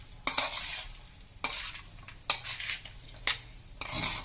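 Crispy fried paneer being stirred into vegetables in a pan for a roll stuffing, with a few distinct scraping stir strokes and a soft sizzle in between, close and fairly quiet, no talking.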